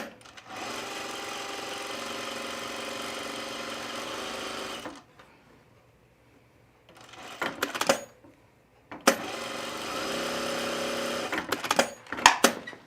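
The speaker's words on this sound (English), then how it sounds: "I'm just going to put one stitch, gathering stitch." A domestic sewing machine runs a gathering stitch along a fabric ruffle in a long steady whirring burst, pauses, gives a short run, then buzzes again at length, close and loud with small clicks between.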